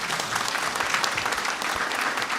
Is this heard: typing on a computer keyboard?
no